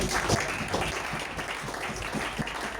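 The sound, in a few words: congregation applauding and cheering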